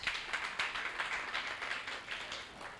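Audience applause at a memorial law colloquium of the Onitsha Bar, a steady wash of many hands clapping for about three seconds, moderately distant with no talk over it.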